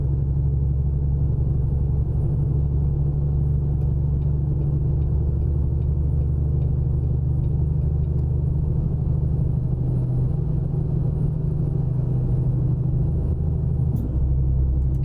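International LT625 truck in American Truck Simulator, its engine labouring under load with a steady, loud low rumble that holds throughout without let-up.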